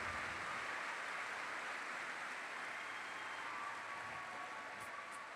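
Audience applause for students at a conversation event, a dense, even wash of clapping held at a steady level throughout, distant and soft.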